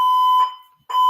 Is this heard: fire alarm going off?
yes